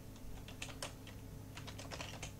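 Someone types quickly on a computer keyboard in short bursts of soft, close key clicks that run over a steady low hum in a quiet room.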